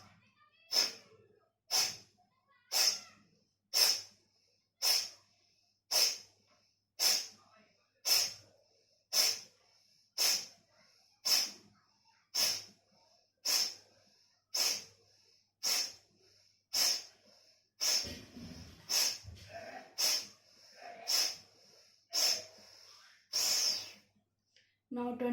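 Forceful Kapalbhati exhalations through one nostril, a long run of sharp, evenly spaced nasal puffs roughly one per second. They are close and loud and come with no talk, turning briefly breathier and irregular near the end.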